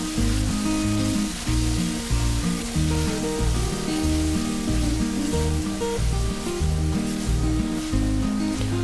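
Red chili sauce and tomato ketchup sizzle steadily in a hot pan, a loud, continuous crackling fry with no pauses and no voices over it.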